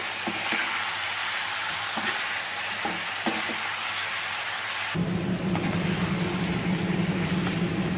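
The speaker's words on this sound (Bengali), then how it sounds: "এটা দিয়ে আমি চিকেনটাকে ভালো করে ভাজবো।" Chicken pieces seasoned with chili powder and ground black pepper sizzle loudly in a hot pan, a steady crackling hiss with a few stirring knocks, then an abrupt shift to a denser, fuller sizzle partway through.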